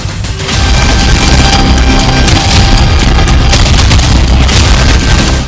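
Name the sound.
explosion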